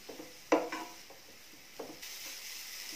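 Sweet potato is sautéed over a medium flame, a soft low sizzle broken by a few sharp spatula scrapes and taps against the pan, fairly quiet and without speech.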